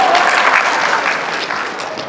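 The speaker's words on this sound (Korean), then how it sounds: "아, 이런 얘기에 박수를 치시는구나." Audience applause at a motivational lecture, a loud burst of many hands clapping that tapers slightly toward the end, with a faint voice underneath.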